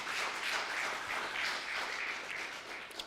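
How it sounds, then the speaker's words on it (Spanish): A congregation applauds during a Spanish-language evangelical church service, a steady wash of clapping from many hands that holds for a few seconds and tapers slightly at the end. "Demos un fuerte aplauso a Cristo Jesús."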